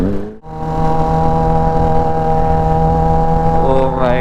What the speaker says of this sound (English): I don't know if Mike is making justice for the exhaust sound on this bike, but on reality, pretty loud guys, pretty loud